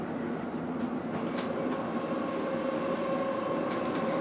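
Onboard a moving London Underground Metropolitan line train bound for Aldgate, a steady moderate rumble and hum of the carriage with faint squeals and rattles, no voices heard.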